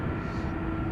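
A Delta Airbus A330 jet airliner departing Amsterdam Schiphol gives a loud, low roaring rumble of engine thrust, sustained and unbroken across a short moment.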